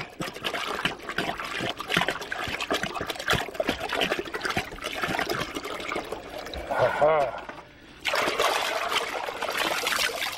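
Water poured out from a gold pan at a roadside culvert, a loud, continuous trickle and splash that breaks off briefly near the end before resuming.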